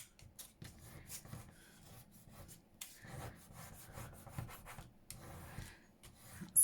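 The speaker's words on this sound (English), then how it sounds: "They do need a good burnishing." A decorated postcard is burnished by hand, giving quiet, close, uneven rubbing and scraping strokes that repeat in short bursts.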